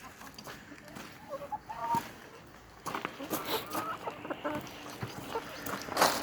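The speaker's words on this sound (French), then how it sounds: "Des poules qui mangent des nouilles." Several hens pecking at noodles give repeated near clucks and short calls, with scratching and rustling mixed in and brief human talk in the background.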